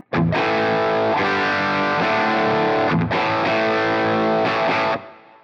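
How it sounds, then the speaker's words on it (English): Crunchy, distorted electric guitar amp tone from a TONEX amp model, bridge pickup at full volume, loud and sustained, with a few chords ringing out one after another before fading at the end. "we get the full-on crunchy tones"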